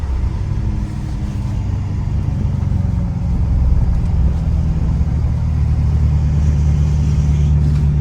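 A 2018 Ford F350 diesel pickup with compound turbos cruises along, giving a steady low engine drone and road rumble inside the cab with a faint rise under load, and no voices.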